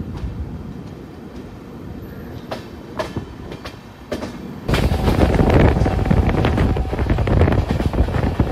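Howrah–Puri Superfast Express train running, a steady rumble that surges louder midway with rattling carriages and wind buffeting, several sharp clicks early on, no talk.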